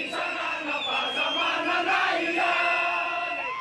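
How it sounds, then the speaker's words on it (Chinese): A large crowd of protesters in Madagascar's capital, Antananarivo, shouts slogans together at a demonstration, a dense sustained roar of many voices chanting in unison, moderately loud and continuous. "示威民众喊结束独裁，宪法自由"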